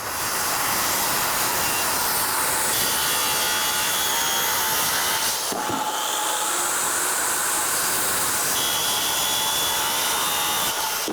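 A wooden collar tie for roof framing being cut with a saw, a steady continuous rasping that runs loud through the whole stretch with a brief pause midway, no talk.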